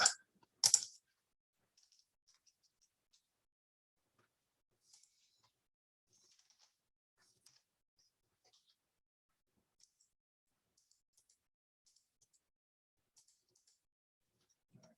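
Light typing on a computer keyboard while filling out a form, heard as sparse, faint key clicks scattered across the stretch after two louder knocks at the start.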